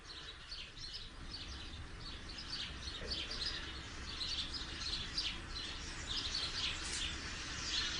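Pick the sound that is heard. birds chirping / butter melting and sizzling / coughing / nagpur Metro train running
birds chirping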